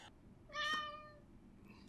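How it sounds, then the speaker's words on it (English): A noisy house cat gives a single clear, drawn-out meow at close range, standing out alone against a quiet room. "Clunk, the noisy cat that we always have to lock up when we do this the old-fashioned way"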